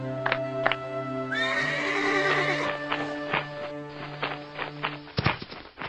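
A flying horse, Kuda Sembrani, lets out a long, loud whinny up close, with hoof clops and a few sharp knocks at the start and end.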